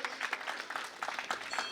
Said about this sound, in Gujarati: આ સમસ્ત આયોજક કમિટીને આપણે તાળીઓના નાદથી બિરદાવીએ